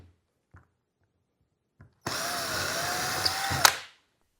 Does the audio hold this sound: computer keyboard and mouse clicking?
no